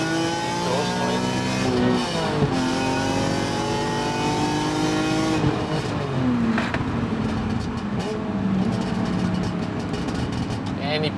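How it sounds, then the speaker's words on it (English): A BMW E46 M3 with a single-box rear exhaust and no catalytic converters revs repeatedly nearby, its engine note rising and falling in sharp sweeps while someone talks over it. "Give you guys some"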